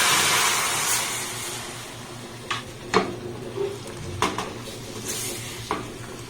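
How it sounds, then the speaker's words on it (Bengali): Milk being stirred in a pan over a low gas flame for a sweet made from raw rice, mango and sugar, with a steady soft hiss underneath and a few light scraping taps of the spoon against the pan. "গ্যাসের ফ্লেমটাকে লো রেখে এটাকে দেখুন আমি কিন্তু খুব ভালোভাবে নাড়াচাড়া করে নেব"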